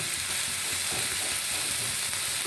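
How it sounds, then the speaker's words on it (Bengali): Potato strips fry in a pan with chopped ginger and garlic, giving a continuous close sizzle and hiss, with soft stirring clatter running beneath it throughout. "এবার এগুলো একটু ভাজা ভাজা করে নেব"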